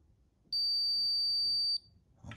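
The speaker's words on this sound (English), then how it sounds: "after this long beep" A single long, steady electronic beep from an RC transmitter and GYD-550 gyro setup, loud and clean, holding for over a second over faint background noise.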